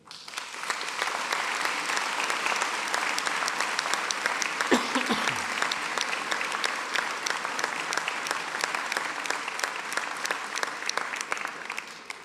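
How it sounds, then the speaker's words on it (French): Sustained applause from a large audience at a New Year's civic address in Vernon, steady and dense throughout, with no talk over it. "Vous pouvez les applaudir."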